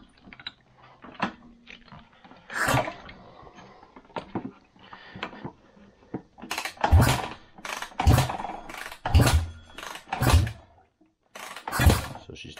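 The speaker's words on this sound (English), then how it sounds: "Let's give this thing a few kicks and see what we come up with for fuel pressure." A 2012 Kawasaki KX450F fuel-injected dirt bike with a fuel problem is kicked over repeatedly, several sharp thumping kicks and mechanical clunks in an uneven series, with the engine not settling into a steady run.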